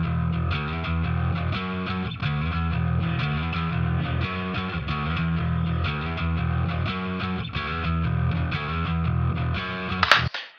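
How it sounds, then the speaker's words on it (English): A bass guitar plays the low end of a heavy main riff alone, a loud, dense, rhythmic low pulse with a gritty edge, ending in a short burst of noise. "we've also got the bass guitar too in that part as well"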